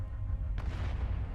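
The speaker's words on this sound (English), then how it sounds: "Point 0, detonate." A detonated explosion in the game Arknights: a single booming blast that hits just past the halfway point and rolls on as a broad rumbling wash over a steady heavy low drone.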